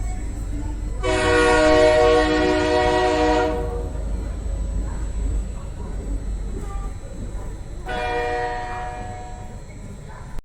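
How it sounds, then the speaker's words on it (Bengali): A train at Bhubaneswar station sounds its horn twice, a long loud blast followed by a shorter one a few seconds later, over a steady low rumble of the railway. "ভুবনেশ্বর স্টেশনে ট্রেন আসার কথা ছিল 4:05, এলো 6:38"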